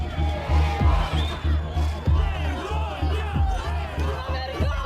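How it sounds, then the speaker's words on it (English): An angry crowd of many voices outside a courthouse shouts and chants together, rhythmic and heated, with a dense babble underneath. "Outside the courthouse, an angry crowd expresses their outrage."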